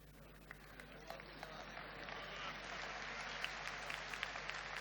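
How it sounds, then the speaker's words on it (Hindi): Audience clapping during a Hindi motivational talk, a soft, steady wash of many hands spreading through the room, faint and distant, with no voices over it. "सब ऐसे ताली बजा रहे हैं।"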